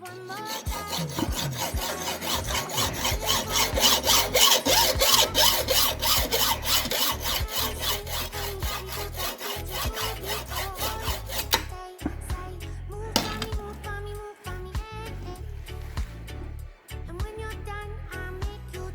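A hand saw cuts through an old plastic garden sprayer part in steady, rapid back-and-forth strokes, close and continuous for about twelve seconds, then a few scattered rasping scrapes follow.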